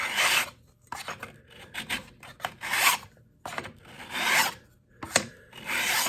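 A metal file jointing the edge of a card scraper, giving repeated close rasping strokes in bursts with short pauses between, no talk.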